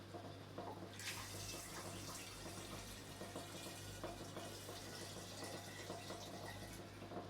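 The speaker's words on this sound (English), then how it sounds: "So I'm going to put about half a litre back into the demijohn." Liquid pours steadily into a glass demijohn during a distilling run, a continuous close splashing trickle with a circulation pump humming underneath throughout.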